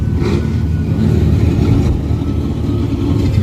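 A Chevrolet Caprice's engine drones steadily and loudly throughout at a street drag-racing track, rumbling low with a revving edge, close by and alone without any talk.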